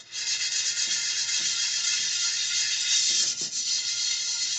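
A chainmail scrubber works over a pan in a continuous harsh, bright scraping, steady and close, with a few soft knocks partway through and no speech.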